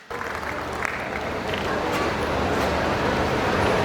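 Applause from an audience welcoming guests at a university convocation ceremony starts abruptly and builds into steady, dense clapping that grows slightly louder toward the end, with faint background murmur.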